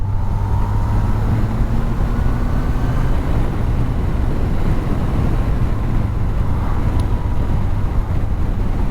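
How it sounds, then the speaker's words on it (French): A Yamaha FJR 1300 motorcycle pulls steadily in fifth gear at low revs with a little added throttle, its low engine drone heavily masked by constant loud wind rush on the microphone. "Si je remets un tout petit peu gaz, on va voir ce que ça donne en cinquième."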